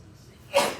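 One short, sharp sneeze bursts out in a lecture room near the end of a brief quiet moment.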